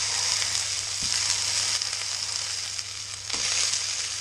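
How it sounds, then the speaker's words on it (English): Goat meat for curried goat sears in a hot pan, giving a loud, steady sizzle with occasional crackles and spits, heard up close without any talking. "this is going to have a lot of smoke and searing noise, but all I'm doing is just browning this on each side to gain some colour"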